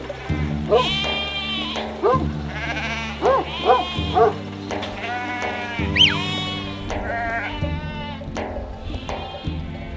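Sheep bleat repeatedly in a rural setting, several wavering calls overlapping one another, close and clear above a steady low background.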